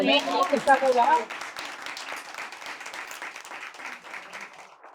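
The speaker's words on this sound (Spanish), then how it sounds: "¿Les parece si empezamos con un aplauso?" An audience at a book presentation claps and applauds loudly at first, then the clapping thins and fades gradually, with a voice briefly heard at the start.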